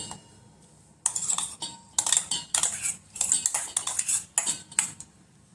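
Bright metallic clinks and scrapes of a utensil against a metal pot, coming in irregular bursts with short quiet gaps between them.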